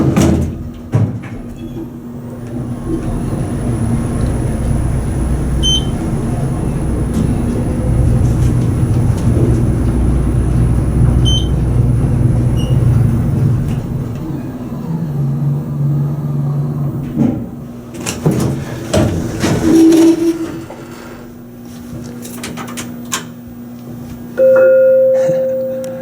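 A ThyssenKrupp ISIS elevator motor hums and rumbles loudly and steadily through the ride, with a low drone, a brief clunk, and a tonal whine near the end.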